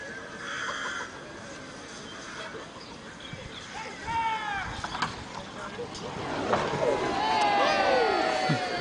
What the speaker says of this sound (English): Remember, as it flies, a big, loud cheer.